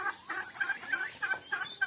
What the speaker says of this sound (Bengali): এগুলো আমার টার্কি মুরগি।